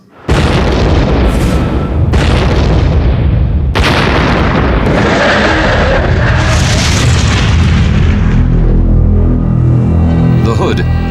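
Battleship Bismarck's main guns opening fire: a string of heavy, loud booms and rolling blasts, with a voice talking over the barrage.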